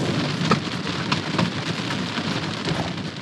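Hail pelts down on a camper in the Black Hills in a dense, loud, unbroken drumming that fills the whole stretch.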